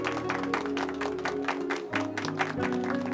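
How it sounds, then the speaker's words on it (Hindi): An audience at a Hindi-Urdu film talk show claps in welcome of a guest, a dense, continuous burst of applause under sustained music with a steady background drone. "तो चले फिर भरपूर तालियों में इस्तकबाल करते हैं आपका"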